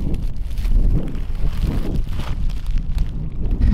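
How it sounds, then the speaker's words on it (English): Strong wind buffets the microphone on a lake shore, a steady loud rumbling roar with gusty swells and no voices. "I don't know how this audio is gonna be because it's crazy windy"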